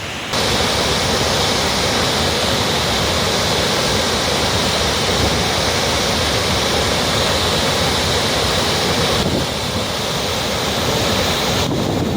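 Water from an overflowing lake pours over its edge like a waterfall, making a loud, continuous roar of rushing water close by. Some wind buffets the microphone, and no one speaks.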